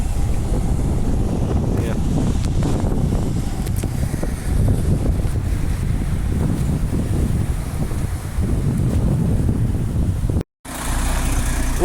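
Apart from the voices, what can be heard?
bus 955 departing from Ellenbrook Town Centre bus stand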